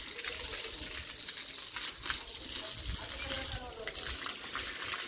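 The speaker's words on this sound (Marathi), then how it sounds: "मी कोपऱ्या मारती पाणी तू मध्ये मार" A garden hose pipe sprays water in a steady, close, broadband rush that keeps going without a break. Faint voices sit underneath the spray.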